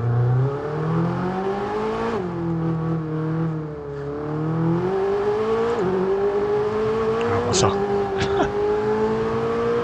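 A supercar in the racing game F1 22 drives with its engine droning, pitch rising and dipping through gear changes and braking, loud and continuous, with someone speaking over part of it.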